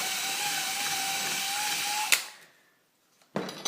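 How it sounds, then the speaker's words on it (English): A power drill with its bit being wiggled to widen a hole in wood whines steadily at close range, then stops abruptly with a clunk, leaving near silence before a brief burst of handling noise. "I'll use the drill bit and just kind of widen that hole a little bit by wiggling it around"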